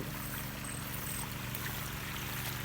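Irrigation water flowing onto a grass field, a continuous, dense rushing gush with no breaks, steady and fairly close.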